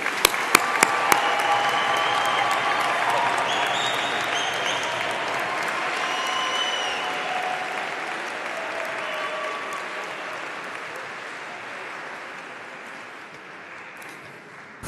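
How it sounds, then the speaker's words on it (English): Audience applause at a graduation and awarding ceremony, a dense wash of clapping with a few sharp individual claps at the start, slowly fading over about fifteen seconds, with faint voices underneath. "Big applause."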